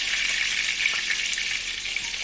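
Kapya red peppers sizzling steadily in hot frying oil, a dense, even crackle held close for the whole stretch with no voices.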